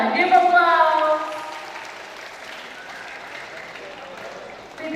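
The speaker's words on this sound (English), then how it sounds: "Give applause." Audience applause for a participant at a school speech contest, a burst of clapping with a voice over it that fades to a quieter crowd murmur after a second or so.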